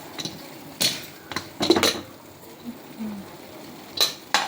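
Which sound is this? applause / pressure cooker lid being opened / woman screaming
pressure cooker lid being opened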